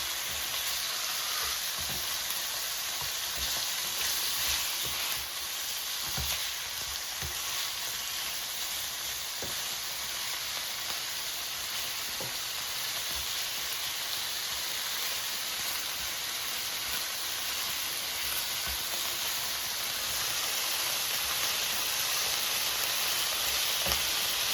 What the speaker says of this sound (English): after about a minute, it has heated, so you can see it sizzling